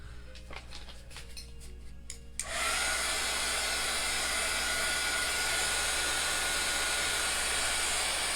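A hair dryer drying chalk paste on a door tag switches on and roars steadily at close range, loud and continuous, after a short stretch of quiet handling clicks.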